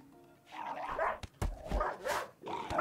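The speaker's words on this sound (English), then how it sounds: "And now we get to listen to huskies bark at me for like 20 minutes." Huskies barking in the RimWorld video game, several loud close barks and yips in quick bursts with short gaps between them.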